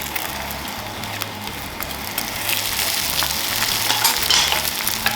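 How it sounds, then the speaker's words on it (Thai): Egg sizzles steadily in a hot pan while a Korean rolled omelette is fried and turned, with a constant close frying hiss and soft scraping as the roll is moved, no talk. "ใส่ไข่เพิ่มนะคะ มาจับหมุนไปเรื่อยๆนะคะ"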